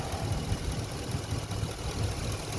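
A 2018 Ford F-250 extended-cab long-box pickup with 83K miles idles smoothly, giving a steady, moderately quiet engine hum with no voices.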